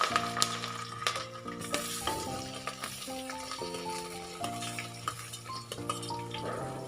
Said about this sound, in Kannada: ಈಗ ಇದೆಲ್ಲ ಚೆನ್ನಾಗಿ ಫ್ರೈ ಆಗಲಿ